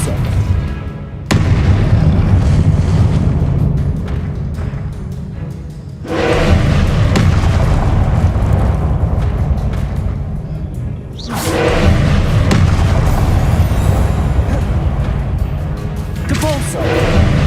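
Repeated Depulso force-spell blasts in Hogwarts Legacy, three loud booming impacts each followed by a long rumbling decay, with spoken voices mixed underneath.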